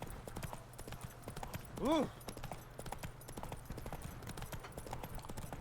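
Horse hooves clip-clop in a steady rhythm in The Witcher 3 video game, soft and even under quiet background music, broken by a brief exclaimed sound from a player partway through.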